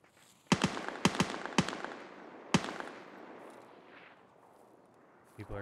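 Several sharp gunshots in Escape from Tarkov crack out as isolated single reports, a close cluster of four followed by one more, each echoing away into a long fading tail with faint noise after.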